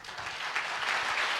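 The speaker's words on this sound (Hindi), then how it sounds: "आप खुल के ताली बजा सकते हैं" An audience at a church convention in Chhattisgarh claps together in a dense, sustained burst of applause, loud and close, with no voices on top.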